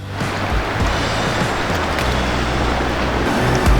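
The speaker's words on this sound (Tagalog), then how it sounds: "at tayo ay mag-start na ng makina" A boat engine runs close and loud as a continuous heavy rumble, with broadband noise that fills the whole moment and no talking.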